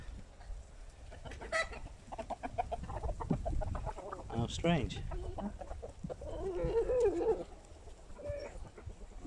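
A chicken clucks and murmurs nearby in soft, irregular bursts while a person speaks quietly in between.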